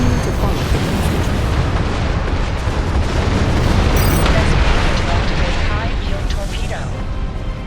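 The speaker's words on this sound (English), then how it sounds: "Torpedo attack." Torpedo attack explosions in the space combat video game Star Trek Online make a dense, loud, continuous roar of blasts and rumbling that runs for several seconds, with a voice speaking over it.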